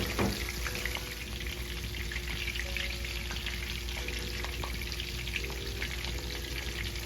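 Cornstarch-coated shrimp fry in a pan with a constant dense sizzle and crackle, close and steady throughout, with faint pops scattered over it and no voices.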